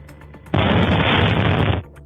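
Missile explosion striking the upper floors of a residential apartment building in Belgorod, a sudden loud blast that holds as a dense roaring rumble for over a second before cutting off, no voices.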